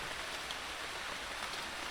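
Steady rain falls outdoors in the countryside, a dense continuous hiss of drops with no distinct breaks, fairly even and alone without voices.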